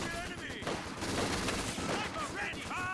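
Sniper rifle gunfire in the video game GCS2 during a competitive match, with dense, overlapping shots and explosions forming a continuous battle din, while whistling projectile sounds and a commentator's voice run over it.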